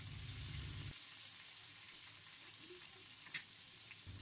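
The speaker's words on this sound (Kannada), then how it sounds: "ಈಗ ಫಿಶ್ನ ಇನ್ನೊಂದು ಕಡೆ ತಿರುವು ಹಾಕಿ 2-3 ನಿಮಿಷಗಳ ಕಾಲ ಚೆನ್ನಾಗಿ ಫ್ರೈ ಆಗೋದಕ್ಕೆ ಬಿಡೋಣ." Bangda mackerel fish frying in a pan, a steady hissing sizzle close by with a brief low rumble at the start and one sharp tap near the end, no talking.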